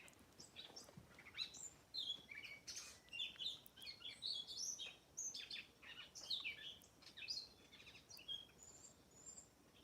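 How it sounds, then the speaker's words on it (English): Small birds sing and chirp outdoors in quick, bright, scattered phrases, fairly faint and distant over a quiet background hum. "listen to that pretty bird"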